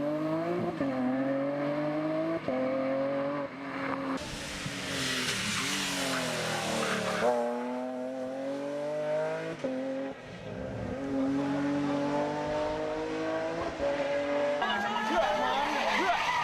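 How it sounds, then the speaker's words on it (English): A Datsun rally car races along countryside asphalt, its engine climbing and dropping through repeated gear changes as it swings left and right, with a commentator talking over the engine noise. "could prevent Jeffrey Elliott from swinging the Datsun left to right across the countryside asphalt"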